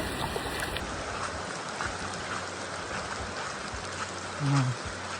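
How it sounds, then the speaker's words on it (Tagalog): Steady rain hisses softly and evenly in the background at night on a mountain trail, a continuous wash of patter with a few faint muffled knocks. "Masyadong maulan."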